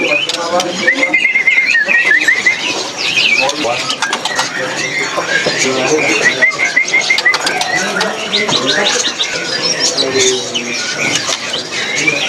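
A small caged songbird sings close by at a bird market in bright, rapid chirps, trills and whistled phrases, almost continuous, with some faint background noise.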